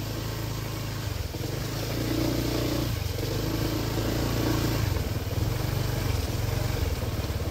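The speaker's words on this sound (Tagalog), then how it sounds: "Kaya pala ng motor dito." Motorcycle engine running steadily while riding along a narrow road, a continuous close mid-pitched drone with slight shifts in revs and no talking.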